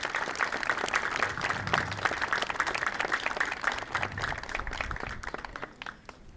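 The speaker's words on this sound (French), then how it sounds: "on peut l'applaudir" Applause at a village 8 May commemoration ceremony in Saint-André-les-Alpes, a moderate outdoor crowd clapping steadily and fairly close, tapering off near the end.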